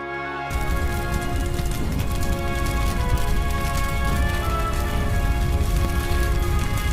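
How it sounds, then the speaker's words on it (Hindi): Steady, dense rain patters continuously on a surface, a constant wash of drops that begins abruptly and carries on evenly throughout, with no voices. "आज तो बारिश हो रही है"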